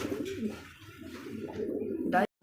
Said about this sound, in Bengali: এখানে আরো একটা কিন্তু ব্ল্যাক কালারের মধ্যে লাহরি কবুতর